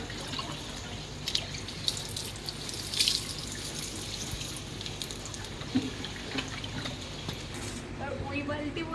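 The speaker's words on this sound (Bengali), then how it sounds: "এদিকে জল দিচ্ছে গাছে" Water is poured onto plants outdoors, giving a faint trickling and dripping splash under people talking throughout.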